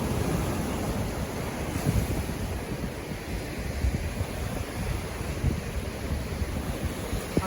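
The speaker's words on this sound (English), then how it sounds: "I'm sure the wind is just destroying the footage on the iPhone." Strong wind buffets a phone microphone on a beach during surf fishing at New Smyrna Beach, a constant roaring rumble mixed with breaking surf, loud and steady throughout with no voices.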